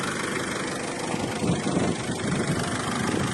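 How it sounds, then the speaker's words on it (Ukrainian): An old car's engine idles steadily with a low, even rumble and constant vibration, close by and with no talking over it. "Двигун працює в ідеалі. Заводиться машинка дуже добре"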